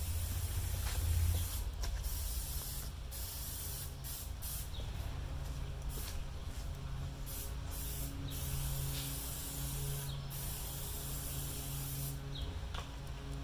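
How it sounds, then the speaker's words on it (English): A steady, continuous hiss of canola cooking spray runs throughout at low volume onto a whole pig being smoked, with faint clicks and small mechanical noises scattered across it. "we're just using canola cooking spray. Give him a nice shot."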